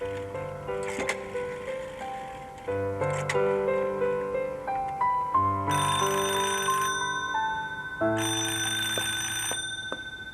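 A telephone rings through a handset while a call is being placed: bright, bell-like melodic tones in repeated bursts, fairly loud, with no talking.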